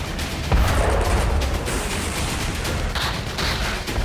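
Rapid strings of blasts and crackling bursts from an ammunition depot exploding in wartime, a loud, dense barrage with repeated booms running throughout without pause.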